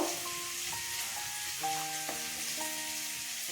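Potatoes frying in oil: a continuous faint sizzle with soft clinks of a utensil ringing against the pan.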